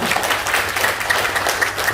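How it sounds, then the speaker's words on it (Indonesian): Audience applause at a seminar, a dense, continuous wash of many hands clapping fairly close and loud for the whole two seconds, with no talking over it. "tepuk tangan buat PT BES ya"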